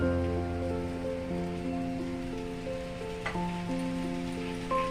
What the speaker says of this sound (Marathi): ती चांगली याच्यामध्ये परतायची कांद्यात मसाल्यामध्ये व्यवस्थित मिक्स करायची